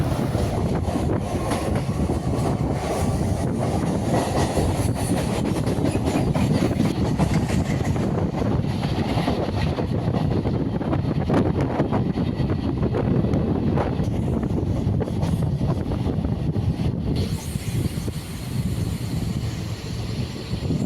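Local EMU electric train running between Tiruvallur and Ponneri, a steady loud rumble of wheels and motors with wind buffeting the microphone, continuous throughout with no voices.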